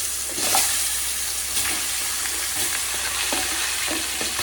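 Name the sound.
fish frying in hot oil in a wok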